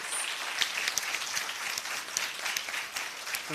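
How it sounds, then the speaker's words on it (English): A public sector debate competition audience gives the competing teams a round of applause, dense clapping from a crowd sustained evenly throughout at moderate volume. "let's give these teams a rousing round of applause"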